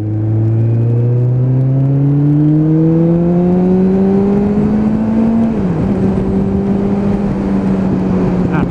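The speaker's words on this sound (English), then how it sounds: "And laying on the power one more time" A Suzuki Bandit 600 motorcycle pulls hard on a dual carriageway, its engine note climbing steadily in a loud, close whine, then dipping briefly at a gear change before rising again under wind roar.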